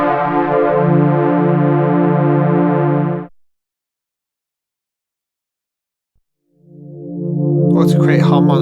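An Absynth 6 FM synth patch with a saw wave modulated by another saw gives a loud, sustained metallic tone. It holds for about three seconds, falls silent, then returns with a rising swell.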